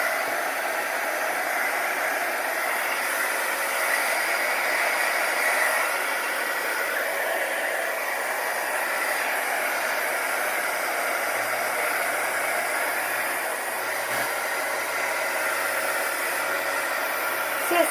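A heat gun blows steadily over wet paint on a painting, producing a constant loud airy hiss and fan roar that runs unbroken throughout with almost no variation.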